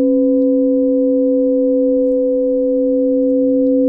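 Solar Seventh planetary tone: a steady, pure electronic drone of stacked sine tones, loud and unchanging for several seconds with no other sounds.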